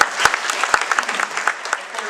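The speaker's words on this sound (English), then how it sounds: "I would ask you not to applaud" Audience applause at a public talk on water rights and the public trust doctrine, loud close clapping from a crowd with distinct individual claps standing out across a couple of seconds.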